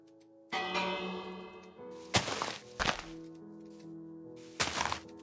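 A village bell in Minecraft rings with sustained, layered metallic tones, punctuated by several sharp, loud struck hits that decay slowly, with no talking.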